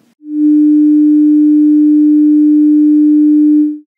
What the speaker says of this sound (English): compare it to the sine wave sound.